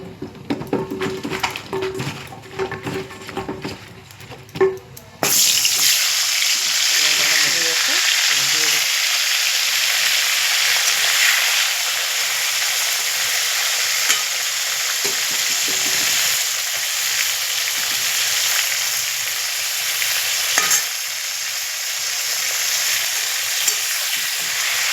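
Flat beans coated in salt and turmeric hit hot oil in a wok, erupting into a loud, steady sizzle after a few seconds of quieter handling, with occasional stirring scrapes and no talk.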